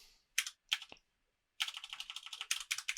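A computer keyboard typed on while entering a seller name into a report form: a few separate keystrokes, a short pause, then a quick, even run of close clicks.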